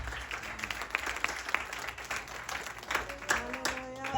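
A congregation applauds during a French-language sermon in a church, with dense, fairly close clapping mixed with voices, rising toward the end of the short burst.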